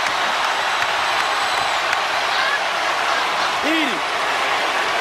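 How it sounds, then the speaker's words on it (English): Basketball arena crowd in a Purdue versus Indiana game, a steady loud wash of applause and cheering that runs throughout, with no clear single voice standing out. "Listen to this crowd."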